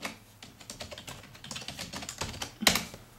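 Rapid clattering keystrokes as a password is typed on a poor-quality computer keyboard, uneven in rhythm, with one sharper, louder key strike near the end.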